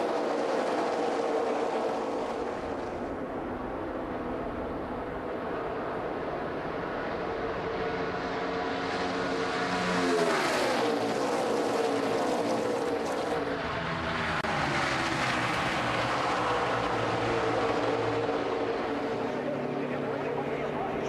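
NASCAR Nationwide Series stock cars racing at Daytona, a loud continuous engine roar as the pack thunders past, swelling and shifting pitch midway, heard through a broadcast mix.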